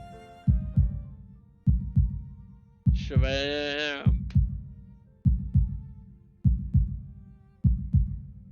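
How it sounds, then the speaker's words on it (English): A slow, regular heartbeat sound effect from the visual novel Katawa Shoujo, paired lub-dub thumps repeating evenly and loud, briefly overlapped by a short spoken word. "I listen to the sound of my heartbeat slowing down until it reaches its normal rhythm"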